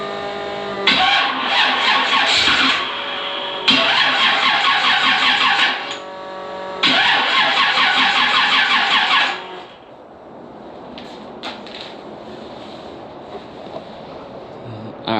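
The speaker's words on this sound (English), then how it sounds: "Now I'm gonna do another startup, but this time I'm gonna put it on the tender and then try to start it." A Monte Carlo SS engine cranks over on a high torque starter with the battery on a tender, three loud rapid whirring bursts separated by brief pauses, followed by quieter background noise and faint clicks.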